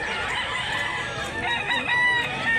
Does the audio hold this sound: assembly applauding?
no